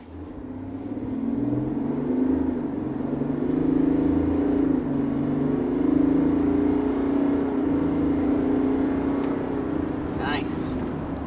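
A 2023 GMC Sierra Denali Ultimate pickup accelerating toward highway speed gives a steady low engine and road drone from inside the cab, holding loud and even throughout.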